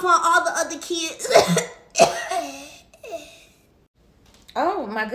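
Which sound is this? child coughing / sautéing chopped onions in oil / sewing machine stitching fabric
child coughing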